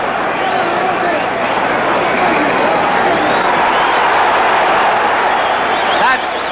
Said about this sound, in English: Crowd yelling because of their feeling for the underdog